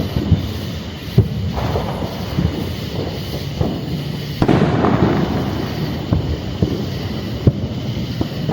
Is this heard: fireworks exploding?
yes